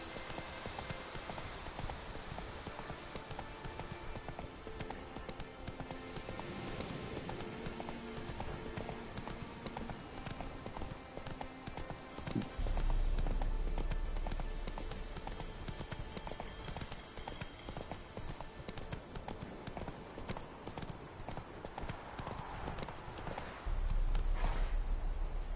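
Roach the horse running in The Witcher 3, a continuous fast clip-clop of hooves over steady game ambience, with occasional brief talk.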